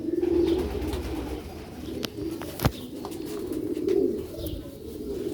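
Rooftop pigeons coo in low, soft, rolling calls close by, with a couple of sharper clicks and some faint background noise between the calls.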